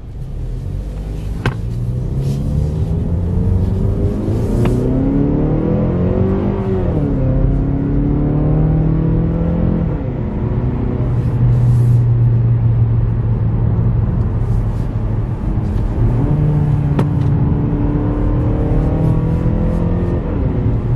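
A 2019 Mazda 3 engine revs up and down through the gears, the pitch climbing and dropping at each shift with blipped rev matches. The steady drone sits close, with no talking.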